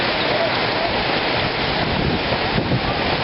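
Heavy rain during the rainy season on the way to Luang Prabang, Laos, a dense steady hiss of downpour mixed with gusting wind buffeting the microphone, loud and continuous throughout.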